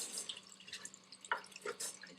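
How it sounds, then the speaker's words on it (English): Water running and splashing as rice is rinsed in about four cups of water for Persian rice, with faint scattered clinks and drips at close range, no voices. "rinse it with about 4 cups of water"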